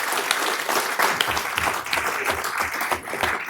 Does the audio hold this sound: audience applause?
yes